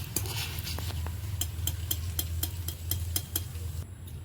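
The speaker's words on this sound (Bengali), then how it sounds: "এবার চিড়েগুলো তুলে নেব।" Fried flattened rice (chira) is lifted out of a pan with a metal utensil, making a run of sharp, regular clinks and scrapes over a low hum and faint sizzle. The scraping is close and steady.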